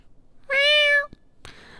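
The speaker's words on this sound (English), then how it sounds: "Can you give me a meow?" A cartoon animal companion gives one clear, high meow lasting about half a second, followed by a faint rustle in an otherwise quiet moment.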